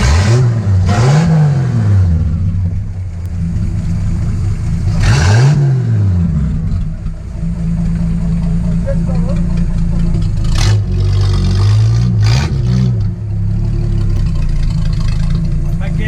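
A Jeep Willys engine revs loudly in a few rising and falling bursts, then settles into a rough idle with short throttle blips; a voice speaks briefly.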